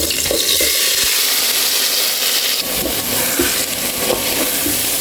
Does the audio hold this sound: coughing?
no